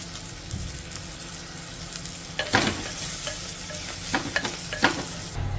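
Spice powder being stirred into gongura pickle in a hot clay pot, with a spoon scraping and stirring in short bursts over a soft continuous sizzle, close and fairly quiet.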